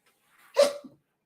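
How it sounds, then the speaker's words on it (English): A single sharp human sneeze, close and loud, preceded by a faint breathy intake and trailing off in a short breath, alone in a quiet room. "I'm about to sneeze."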